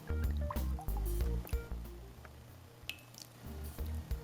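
Baileys coffee liqueur poured into a sweetened mocha icebox cake mixture of sugar and cocoa, a soft liquid trickle and drip running for a few seconds under low background noise, with no talking.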